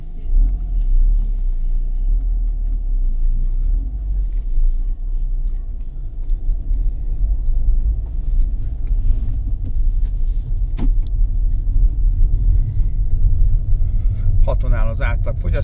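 Running VW Passat Combi with a 1.6 CRTDI diesel engine just after starting: a steady low rumbling idle, close and continuous, with someone talking over it.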